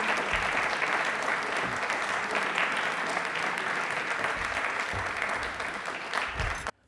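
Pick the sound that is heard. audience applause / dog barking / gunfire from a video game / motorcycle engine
audience applause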